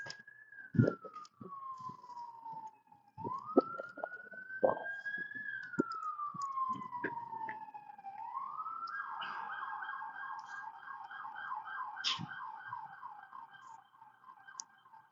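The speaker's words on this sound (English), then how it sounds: "here are the sirens there." An emergency vehicle siren rises and falls in long wailing sweeps on a Los Angeles street in Chinatown, then shifts into a rapid warbling yelp, loud and fairly close over faint street noise.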